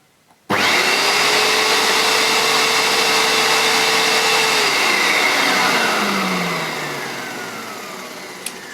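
A vintage Hoover U2107 Turbopower 2 vacuum cleaner switching on with a sudden loud start, then a steady whining motor drone that slowly fades, with a faint click near the end.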